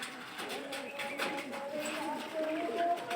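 Pigeons at a pigeon farm coo softly and steadily, with a voice talking over them throughout.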